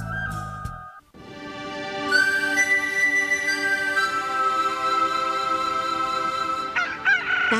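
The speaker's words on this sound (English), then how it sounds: "Can the racket, you stupid bird." A rooster crows loudly and close by in a morning scene, a long drawn-out call that starts after a brief pause and carries for several seconds, with a fainter second crow near the end.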